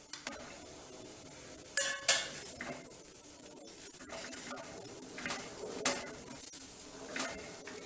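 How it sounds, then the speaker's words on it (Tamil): A spatula stirs snake gourd and coconut poriyal in a pan, with close scraping against the metal, a few sharp clinks and a soft sizzle underneath. "வதக்கலை கிண்டி விட்டு ஒரு 3 நிமிஷம் மட்டும் மூடி வைங்க."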